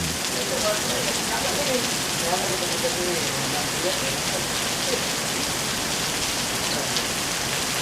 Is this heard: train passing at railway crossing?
no